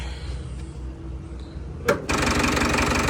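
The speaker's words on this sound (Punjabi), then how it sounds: "ਲਓ ਜੀ ਕਰਤਾ ਆਪਾਂ ਨੇ ਟਰੈਕਟਰ ਸਟਾਰਟ" A Farmtrac 6055 diesel tractor engine cranks briefly, then catches and settles into a loud, steady running rumble.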